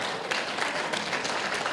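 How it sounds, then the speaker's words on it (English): Applause from a gala evening audience welcoming a dance academy, a steady wash of many hands clapping at even loudness throughout, with no voices standing out. "Go ahead, you can clap, it's okay."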